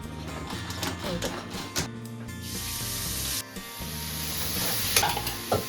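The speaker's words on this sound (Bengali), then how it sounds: "এখন স্টাফিং নাড়া হচ্ছে" Boiled potato stuffing for paratha fried and stirred in a pan, a continuous close sizzle with intermittent scraping strokes and a steady tonal hum running underneath, with no voices.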